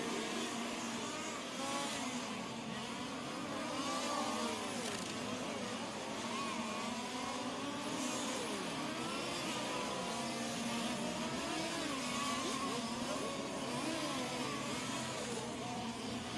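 Fifth-scale on-road RC race cars lapping a circuit at a world championship, their small engines buzzing and revving continuously at a distance, overlapping whines rising and falling through the whole stretch without pause.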